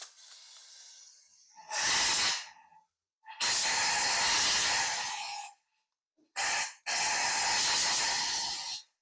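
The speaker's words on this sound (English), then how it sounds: "I'm just going to be using my bed liner gun just to shoot the air in" A bed liner gun blasts compressed air into a spark plug tube in bursts, four loud hissing shots separated by short silences, the last one brief before a longer final burst.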